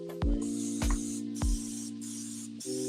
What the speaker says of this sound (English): Spray it really well.